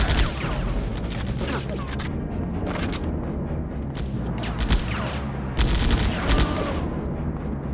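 Gunfire in the video game Die Hard: Vendetta comes as dense, loud bursts of rapid shots and booms that barely let up, with game voices heard briefly among them.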